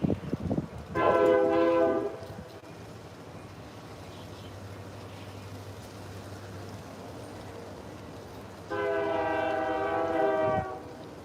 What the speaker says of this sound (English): Is it a long train?